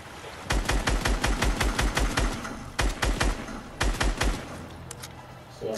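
Rapid bursts of game gunfire during a Fortnite-style battle royale match, with two clusters of sharp shots in quick succession followed by a few scattered single reports, loud and close.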